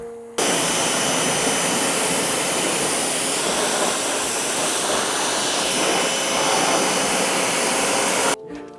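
Steady loud hiss of a pressure washer or blower spray working over a Jeep Gladiator after an overland trip, continuous and close for several seconds, starting and stopping abruptly.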